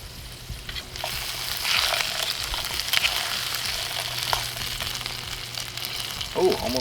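Potatoes and trout frying in a pan over a camp stove outdoors, with a steady close sizzle and occasional stirring scrapes and clinks.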